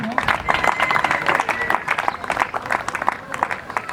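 At a farewell ceremony for a lieutenant, a gathered crowd breaks into applause and cheers, a dense, uneven rattle of clapping with rising shouts throughout, while voices carry over it.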